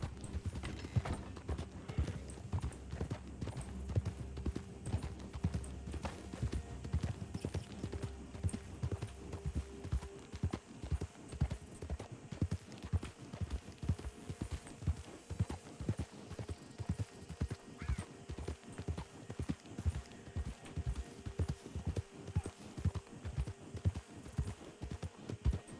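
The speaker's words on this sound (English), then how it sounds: "my horse is about to give out" Horse hooves galloping in the western video game RedM, a fast, steady clip-clop rhythm throughout, fairly quiet, with an occasional whinny and no talking.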